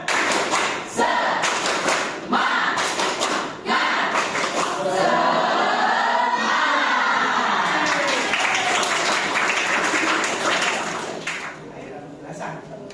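A roomful of students repeats a rhythmic spirit clap: bursts of sharp, patterned group clapping up close, with voices chanting and shouting over the claps before it fades near the end.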